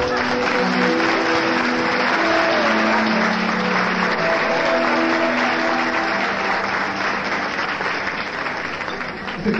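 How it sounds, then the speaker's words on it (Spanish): An audience at a live music show applauds continuously, a loud and dense wash of clapping that holds steady for nearly ten seconds before thinning slightly at the end. "A todos ellos, un aplauso, por favor."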